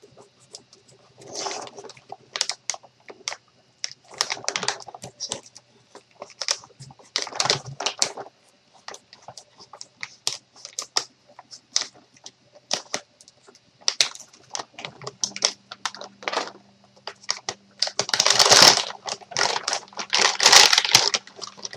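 Plastic bags being cut and pulled off spools of 3D printer filament, with irregular crinkling, rustling and crackling bursts close by, growing louder and denser toward the end.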